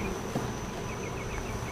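Honeybees hum in an open hive box during a summer dearth, a close, continuous buzzing drone with a few brief louder passes of single bees, and no talk.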